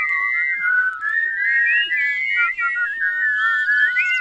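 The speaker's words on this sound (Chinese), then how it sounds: "口哨声很了不起吧？" A cartoon character whistles a wavering, sliding tune, loud and close, with one brief break partway through and no talking.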